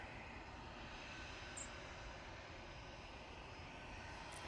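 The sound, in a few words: easyJet airliner approaching runway 3 left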